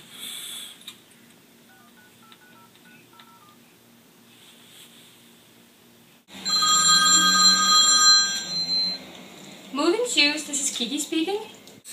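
A telephone call is placed: a string of touch-tone dialing beeps, then a loud electronic ring tone sounding in bursts, followed by a person beginning to speak at the end.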